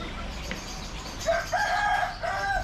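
Caged chickens at the Chatuchak pet market in Bangkok crow and cluck in a crowded market setting, several loud nearby calls rising over a busy background murmur.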